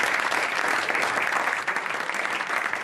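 An audience bursts into steady clapping, loud and dense with many hands, holding strong before easing slightly toward the end, with no talk over it.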